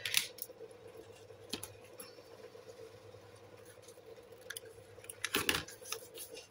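Scissors snip paper for a handmade junk journal in a few sharp, close clicks scattered across an otherwise quiet stretch, with a louder cluster of cuts near the end.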